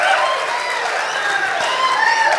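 Audience applause fills a Kannada comedy show in Malleshwaram, a dense, steady wash of many hands clapping together, loud and continuous throughout without a break.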